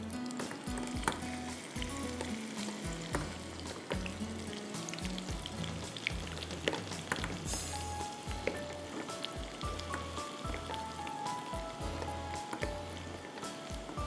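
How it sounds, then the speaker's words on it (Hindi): Garlic frying in hot oil in a pan until light golden, a steady close sizzle and crackle running continuously with occasional stirring scrapes. "लहसुन को लाइट गोल्डन फ्राई करना है, कच्चा नहीं डालिएगा उसमें"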